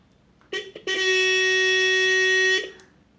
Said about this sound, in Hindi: तो ये सही काम कर रहा है, तो आपका ये हॉर्न रेडी हो गया।